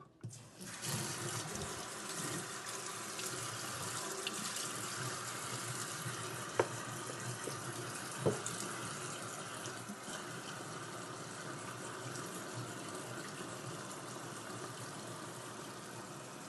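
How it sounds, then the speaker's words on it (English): Water runs steadily from a tap over the sink while straight razors are rinsed in soapy water, a continuous close hiss with a couple of small clinks, and no voices. "I'm literally using soapy water to get the oil off."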